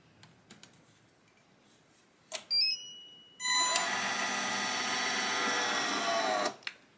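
A Vevor automatic mug press for sublimation closes on a mug, a steady mechanical whirring hum lasting about three seconds, preceded by a few light clicks and beeps close by.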